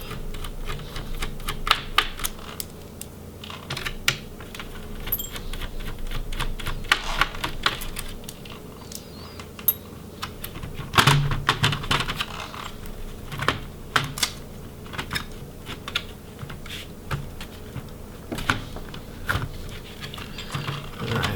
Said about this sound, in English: Looks like we're going to need to remove the other screws